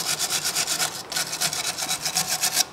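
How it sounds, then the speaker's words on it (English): A wire brush scrubs rust and grime off a VW Tiguan front suspension part near the anti-roll bar link, fast rhythmic back-and-forth rasping strokes, close and steady, with one brief pause midway and no talk. "you can use the wire brush on that to clean it as much as possible"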